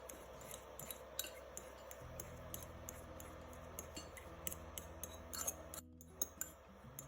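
Ingredients for a clinging salad dressing mashed in a bowl, giving soft, irregular scraping and clicking of a utensil, fairly quiet, with a few sharper taps toward the end.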